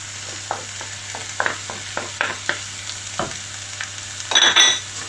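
A spoon stirring paprika, cumin, salt and pepper into vegetables in a sizzling frying pan, with a steady fry hiss, a series of light scraping knocks and a louder scrape near the end.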